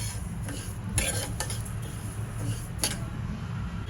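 Flaxseeds crackle and rustle as they roast in a hot pan, with light scraping and a few sharper clinks of a spoon against metal.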